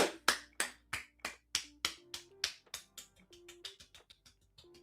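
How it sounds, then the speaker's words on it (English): A person claps their hands in a quick, steady run of about twenty sharp claps, crisp and close, starting loud and gradually softening, with faint tonal background sounds in between. "Clapping my hands for Top Step."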